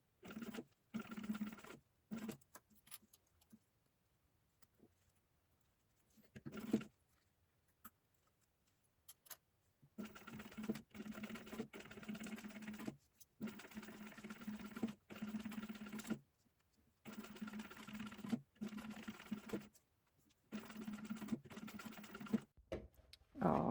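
Sewing machine stitching along the edge of a vinyl zipper pouch, a steady rapid patter that runs in several bursts with pauses between them, close and moderately loud.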